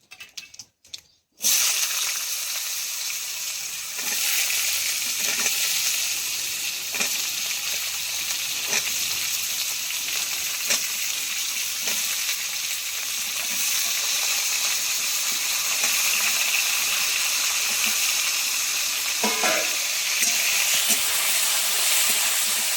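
Potato and eggplant pieces drop into hot oil, with neem leaves in the pan, bursting into a loud, steady sizzle and hiss after a brief quiet start, continuing without a break.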